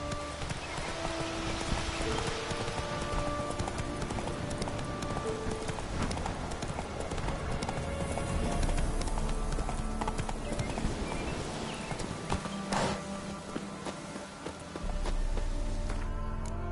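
Horse hooves clip-clop at a steady walking-to-trotting rhythm in the open-world game The Witcher 3, with close, continuous beats over dense game music and ambience, and an occasional whinny.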